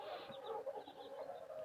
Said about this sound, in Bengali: আমার যে দেশি মুরগিগুলো আছে সেগুলো ডিম পাড়া শুরু করে দিয়েছে